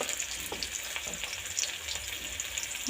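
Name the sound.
stirring spices frying in a pan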